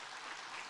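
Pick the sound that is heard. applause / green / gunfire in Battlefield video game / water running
applause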